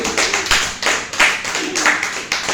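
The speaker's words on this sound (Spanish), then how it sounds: "Denle un fuerte aplauso al Señor en esta tarde." A church congregation claps for the Lord during an afternoon service, a fairly close, rhythmic run of hand claps with accented beats recurring roughly every half second, carrying on steadily throughout.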